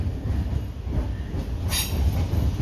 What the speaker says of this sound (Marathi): बरोबर ट्रेन आलेली आहे